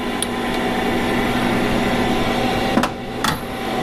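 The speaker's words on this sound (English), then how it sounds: "Center drill." A center drill bores a starting hole in a part for an entertainment center build, with a steady machine whine and hum and two short clicks near the end.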